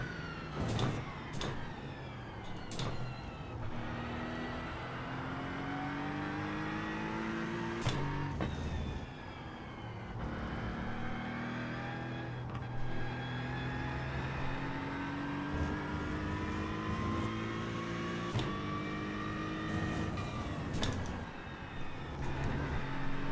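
An Aston race car engine at Mugello in a racing video game drones steadily and close, its pitch rising and falling through gear changes, with brief sharp bursts and no voices over it.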